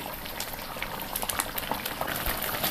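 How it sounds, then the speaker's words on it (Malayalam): Palak chicken curry boiling in a pot, a close bubbling and popping of thick liquid with irregular soft bursts, steady and moderately loud with no talk. "കറി നന്നായിട്ടൊന്ന് തിളച്ചിട്ടുണ്ട്"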